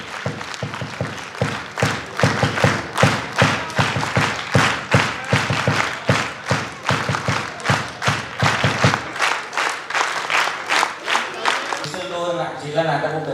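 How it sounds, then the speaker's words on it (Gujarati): Loud, steady rhythmic clapping from a crowd honouring women on stage at a public programme in Kalol, beating in unison before breaking off near the end into music and a voice. "આ તમામ મહિલાઓ માટે જોરદાર તાળીઓ થઈ જાય"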